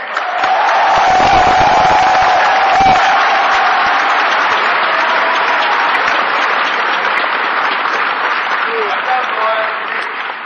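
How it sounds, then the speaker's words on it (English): A convention crowd of PC gamers at PAX East 2010 bursts into loud, sustained applause with cheers and whoops during an Nvidia presentation, gradually thinning toward the end. "can we hear a round of applause for the PC gamers?"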